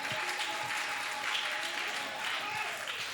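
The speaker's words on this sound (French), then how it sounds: "Est-ce que vous pouvez applaudir?" A church congregation applauds at a preacher's call, a continuous wash of clapping that holds steady throughout, with voices mixed in beneath it.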